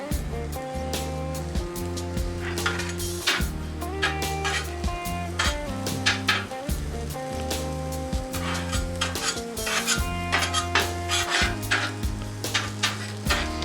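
Chopped onion and pepper sizzling and being stirred with a metal spatula for chili on a flat griddle, continuous frying with scraping taps, with music playing underneath.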